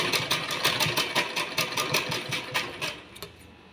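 Sewing machine stitching in a tailoring class, a close, steady rapid mechanical chatter with rhythmic pulses that slows and stops near the end.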